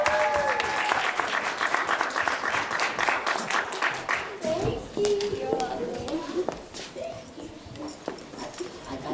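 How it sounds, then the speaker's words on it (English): A crowd at a children's game show event applauds steadily for several seconds, the clapping thinning and fading as voices and scattered noise take over near the end. "I think they deserve a big round of applause."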